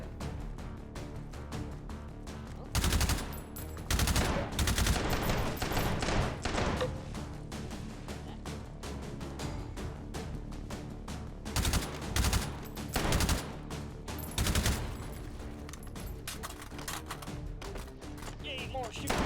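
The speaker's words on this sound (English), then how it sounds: "Yay, more shooting." Repeated bursts of gunfire in the VR shooter H3VR, Take & Hold mode, loud volleys clustered at intervals with rapid automatic fire between them, over a steady game soundscape.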